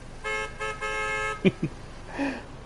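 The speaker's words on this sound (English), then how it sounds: "You're gonna honk at me again?" Car horn in the Train Sim World 3 game, Southeastern high-speed route: two or three steady tooted blasts in the first second and a half, followed by short knocks and a brief rising tone, fairly close and moderately loud.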